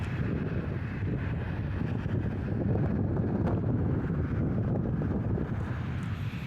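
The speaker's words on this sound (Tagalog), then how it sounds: "Sobrang lakas ng hangin." Strong wind buffets the microphone in a steady, roaring rush that barely lets up, with no voices.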